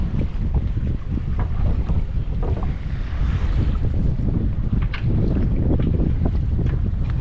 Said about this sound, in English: Got a bit of a wind here.